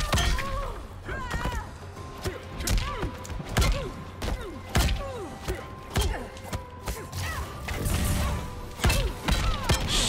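Heavy fighting-game impacts from Mortal Kombat 11, with a Raiden variation in play: repeated loud thuds and whacks landing in quick bursts over game music and effects, including a big crushing-blow hit.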